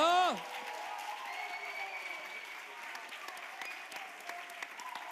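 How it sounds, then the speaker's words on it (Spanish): Audience at a school music competition event applauds after a prize announcement; a loud voice opens briefly, then sustained, moderately faint clapping with scattered sharp claps continues to the end. "Por favor, un forte aplauso."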